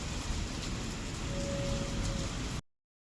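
Steady rain pours down outside a house in Hisar during a stormy night, a dense, even hiss with pattering drops on surfaces that holds constant throughout, with no voices.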